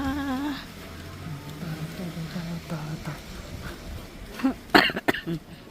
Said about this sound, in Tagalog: Grabe, inuubo na.